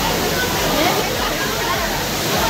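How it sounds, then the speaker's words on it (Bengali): Waterfall water at a temple pours down in a dense, continuous rushing roar, loud and close, with no break across the short stretch. "দেখো এই ঝর্ণার জল কিন্তু এখান দিয়ে বেরিয়ে যাচ্ছে নিচে, আর আসছে ঝর্ণার জলটা ওখান দিয়ে।"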